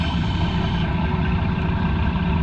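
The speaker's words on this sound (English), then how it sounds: "Listen to that diesel whistle." A Cat diesel boat engine runs steadily at close range, a dense, continuous low rumble with a faint high whine on top and no break in its drone.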